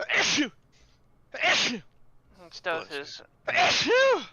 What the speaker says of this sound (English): God, I always sneeze exactly 3 or 4 times.